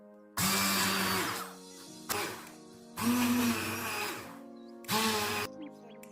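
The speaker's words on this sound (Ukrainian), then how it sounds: "Мак перемелюємо за допомогою ручного блендера." A hand blender whirs in four bursts of a few seconds each while grinding poppy seeds, its motor pitch dipping slightly as it grinds, with short pauses between.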